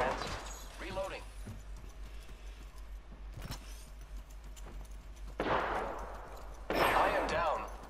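Gunfire crackles in a battle royale game as bursts of shots ring out near and far. Loud, rapid volleys hit around the middle and end, separated by sparser single cracks, and a voice talks over the shooting.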